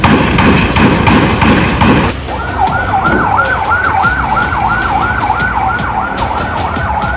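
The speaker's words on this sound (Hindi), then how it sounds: "इस अस्पताल के बाहर एक के बाद एक एम्बुलेंस फ्लैश लाइट जलाकर पहुंचती है" Ambulances with flashing lights arrive one after another outside a hospital in the West Bank: heavy thumping noise at first, then a loud, close siren wailing up and down repeatedly.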